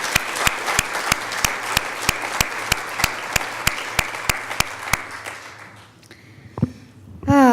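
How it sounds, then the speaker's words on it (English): An audience at a church-style gathering claps in a run of sharp, evenly spaced beats, fading after about five seconds into a few scattered sounds and a rising voice at the close. "So applaud yourselves for all that you all have done."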